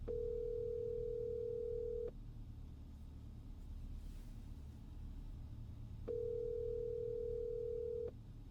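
A ringback tone in a song, played before a call goes to voicemail, sounds twice as a steady two-second electronic tone with a long pause between, over a low background rumble.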